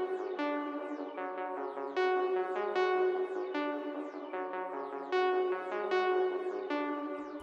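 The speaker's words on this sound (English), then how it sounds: "I used the ARP Dreams 2 preset" Synth arpeggio from the ARP Dreams 2 preset in FL Studio, a steady run of bright plucked notes repeating in a looping pattern for a hard ambient beat, moderately loud with no voice over it.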